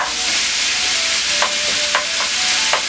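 Minced meat and caramelizing onions sizzle steadily in a hot pan, with a few soft scraping stirs of the spoon audible over the continuous frying hiss, close and clear.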